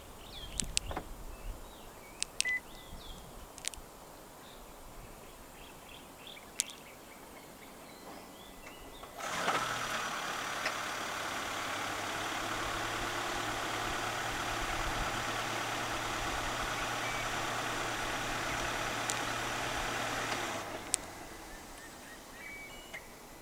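A 2023 Honda HR-V 1.5 e:HEV hybrid starts by remote start and idles steadily for about twelve seconds, then shuts off, with faint birds chirping outdoors.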